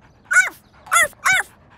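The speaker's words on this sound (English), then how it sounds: "Listen carefully to hear which dog has the same bark." A cartoon dog gives three short, bright barks, the first alone and the last two close together, clear and near with nothing else behind them.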